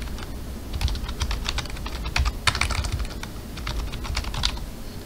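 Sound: typing an email address on a computer keyboard

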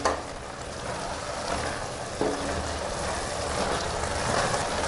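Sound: carrot halwa with milk cooking and being stirred in pan

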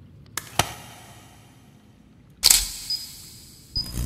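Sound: camera taking a flash photo in the video game Crawl

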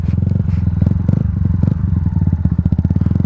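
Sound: Yamaha MT-125 motorcycle throttle blip

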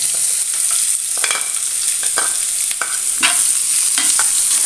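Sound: chopped onion frying with cumin in a pan

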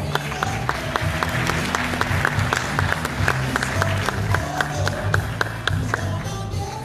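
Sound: audience applause

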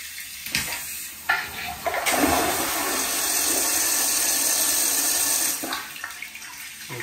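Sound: EPLO EP-16 smart toilet flushing

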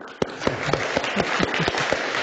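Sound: audience clapping for conference staff

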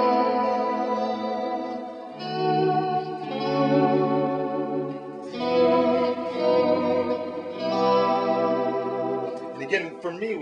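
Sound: electric guitar volume swells with reverb and whammy bar vibrato

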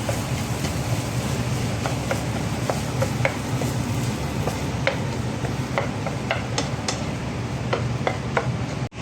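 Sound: stirring and mixing a sandwich filling with sauce

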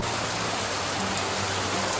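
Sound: rain and wind during a bike ride

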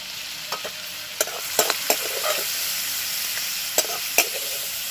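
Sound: prawns being lightly fried in a pan

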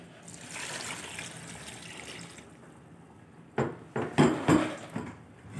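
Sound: water poured into pot for chicken and gobi pulao

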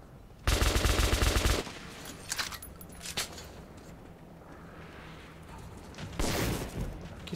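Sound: gunfire in Metro 2033 video game

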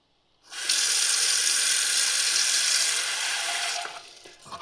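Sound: water poured into a small pot

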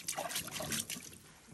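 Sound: water trickling into a fishing boat

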